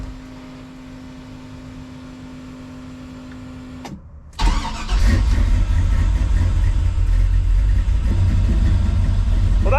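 A truck engine after a dual battery swap on a snowy day: a steady hum, then a brief cut, then the engine cranks and settles into a loud, close, even rumble.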